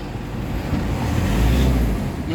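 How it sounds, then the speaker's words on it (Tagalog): Steady, low engine rumble from a Nissan Urvan Premium van running after an XADO engine treatment for low power, heard close and continuous with no talk. "kapahimik na yung makina"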